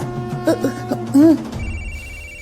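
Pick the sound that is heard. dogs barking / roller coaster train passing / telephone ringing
telephone ringing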